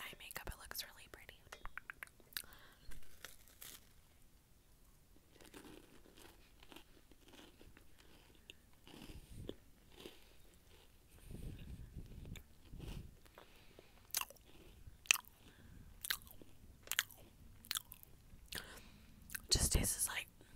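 Someone quietly crunching and chewing a chocolate chip snack close to the microphone in soft bursts, with whispered speech between bites.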